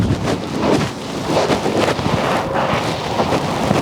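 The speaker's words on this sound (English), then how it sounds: "we got windy conditions" Gusty wind buffets the microphone with loud, low rumbling bursts that rise and fall unevenly throughout.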